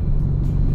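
A car cruises along the CAVITEX expressway near Parañaque on a Sunday with light traffic, giving a steady, close, loud low rumble of engine and road noise.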